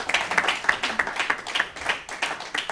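Audience clapping at a ceremony in the Democratic Republic of Congo, with a painting being presented, steady dense applause continuing throughout with sharp individual claps near the front.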